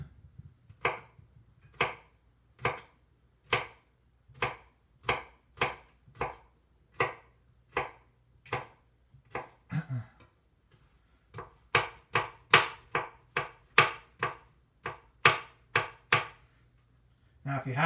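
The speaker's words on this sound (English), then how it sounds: "I like to chop that up nice and fine" Garlic being finely chopped with a knife on a board: a steady run of about thirty crisp, evenly spaced blade strikes, close and clear, with a short pause midway before the rhythm resumes.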